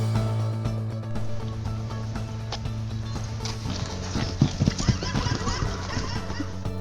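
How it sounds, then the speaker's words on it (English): A wild horse moves about, with hoof thuds and a few sharp knocks in the final seconds over a steady low hum; a voice talks faintly in the background. "Look at this wild horse."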